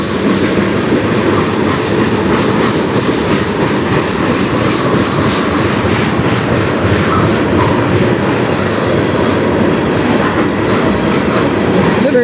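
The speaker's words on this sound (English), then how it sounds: "Considering the speed that this guy came in, this is a pretty long train." A long CN freight train rolls steadily past on the Strathroy Subdivision, loud and close, with continuous wheel rumble and clickety-clack over the rails holding level for the whole stretch.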